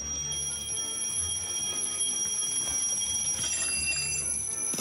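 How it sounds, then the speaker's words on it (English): An alarm rings continuously for several seconds, a steady high-pitched electronic tone holding over a low background rumble, moderately loud and with no one speaking. "once you've turned the first alarm on"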